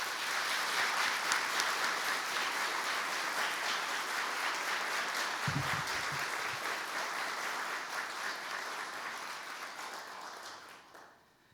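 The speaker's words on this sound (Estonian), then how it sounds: "Teeme sissejuhatuseks neile veel ühe suurema aplausi" Loud, sustained applause from a crowd of parents, teachers and guests at Elva Gymnasium's basic school graduation ceremony in Estonia, in an assembly hall, a dense steady roar of clapping that carries on for about ten seconds before fading out at the end.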